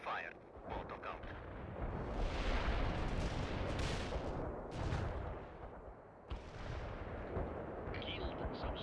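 A heavy artillery strike in the war game World in Conflict pounds the battlefield as a dense rolling barrage of booming blasts and gunfire, loud and continuous, with a radio-style voice talking over it.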